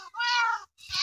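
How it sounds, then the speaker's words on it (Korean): A cat meows twice up close, a drawn-out tonal meow followed after a brief gap by a shorter second call, clear against a quiet background. "고양이 여기요."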